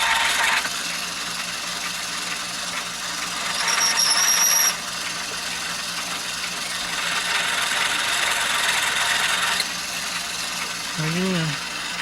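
A Lyman Electric Prep Station motor runs steadily during brass case prep, a continuous hissing mechanical whir with a few brief louder bursts, faint voices underneath.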